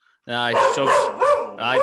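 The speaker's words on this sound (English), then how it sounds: "my door is just going now. So Doug's barking like fuck" A dog barks at someone at the door, a run of loud close harmonic barks and yips that fill most of the stretch after a brief silence.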